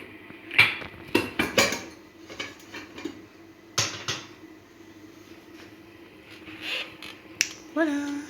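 A cauliflower is turned over in a pan with the help of a plate: sharp clinks and clatters of crockery against the pan, loudest early on, with softer scrapes and knocks in between and a final clatter near the end.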